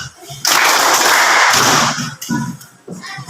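A classroom of pupils clapping their hands together in a loud, dense burst lasting over a second, followed by a few scattered claps.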